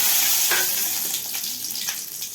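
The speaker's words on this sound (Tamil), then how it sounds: "நல்லெண்ணெய் ஊற்றிட்டு அதில் வந்து இந்த வெந்தயத்தை போட்டுரும்." Fenugreek seeds frying in sesame oil give a steady close sizzle with soft crackles and a few sharper pops, filling the short stretch with no one speaking.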